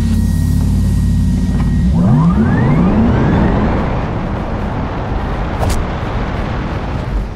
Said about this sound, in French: maintenant, on est à l'arrêt, je vous présente le launch control de cette voiture